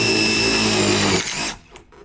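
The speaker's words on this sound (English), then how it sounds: "And we just punch all the screws in." A power drill drives screws into a wooden gate rail during fence gate installation, a loud steady whine running about a second and a half before cutting off, with faint handling noise after.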